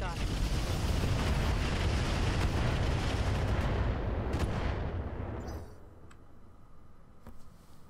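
Weapons fire from mechs in the BattleTech-based video game Roguetech: a dense, loud roar of gunfire and explosions that holds steady for several seconds, then trails off into a fading rumble with a couple of faint late clicks.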